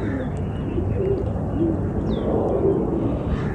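Pigeons cooing in a loft, soft low repeated coos over a steady rustling, murmuring background, moderately close and continuous.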